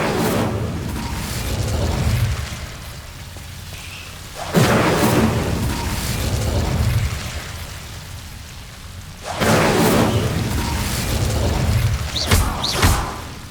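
Repeated Confringo fire spell explosions in the video game Hogwarts Legacy, several loud booming blasts with rumbling tails spaced a few seconds apart, over a continuous game ambience.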